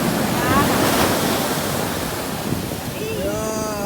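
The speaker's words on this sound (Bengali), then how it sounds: "এইটা আসতে পারে, বড় ঢেউ।" Sea waves breaking on Digha beach, a steady loud wash of surf with wind buffeting the microphone, continuous and close.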